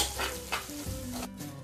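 Squid roast being stirred in a pan with a little coconut oil, a close scraping stir over a steady sizzle, with a few distinct spoon strokes in a short burst.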